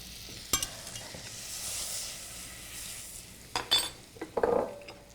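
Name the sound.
making a roux of butter and flour in a saute pan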